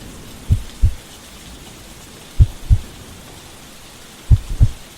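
Continuous rain hiss runs in the background beneath loud, low double thumps that recur every couple of seconds like a heartbeat.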